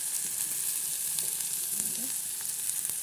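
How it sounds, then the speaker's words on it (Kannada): Oil sizzles steadily in a pan while potatoes fry in a tempering with turmeric and salt, with occasional soft scrapes of stirring and no voices. "ರುಚಿಗೆ ತಕ್ಕಷ್ಟು ಉಪ್ಪು ಹಾಕ್ಕೊಂಡು ಚೆನ್ನಾಗಿ ಫ್ರೈ ಮಾಡೋಣ"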